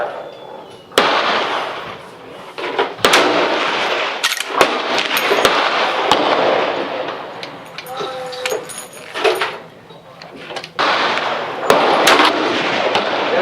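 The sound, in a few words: gunfire from rifles at a shooting range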